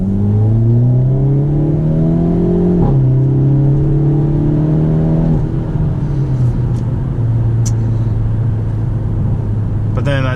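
A car engine revs loudly and up close, its droning pitch climbing and dropping through several gear changes in one continuous run.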